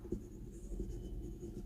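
A Faber-Castell Loom gunmetal fountain pen with a steel nib gliding across paper, a soft, close, continuous scratchy whisper with a few faint stroke onsets, heard alone.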